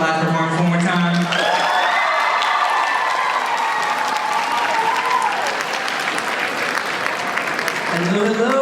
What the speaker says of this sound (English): Can we get a round of applause for the last performance one more time?